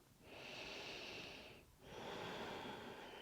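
Slow breathing during a yoga exercise done lying in bed, a long soft exhale followed by another breath, close and quiet with no talking.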